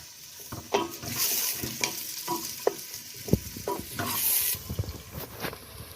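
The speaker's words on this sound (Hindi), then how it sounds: "थोड़ा सा लहसुन डाल दूंगी इसमें।" Garlic frying with onions in oil for a mutton kachnar curry, a close continuous sizzle broken by regular spoon stirs and scrapes against the pan.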